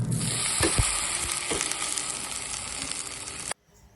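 Wheat flour and potato roti frying in a pan, with a loud, continuous sizzle and a few soft taps that cuts off abruptly near the end.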